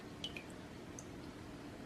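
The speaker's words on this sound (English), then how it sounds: "See, it's dripping down in there?" Water drips through a homemade filter into a container, a few faint, sparse drops over a low steady background.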